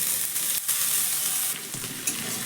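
Finely chopped capsicum and green chilli sizzling in a hot frying pan, a dense continuous close hiss broken by brief stirring scrapes, with no one speaking.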